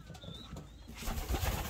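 Young pigeons in a loft give soft, low coos and faint fluttery sounds, quiet and close, with a rougher rustling burst near the end and no talk.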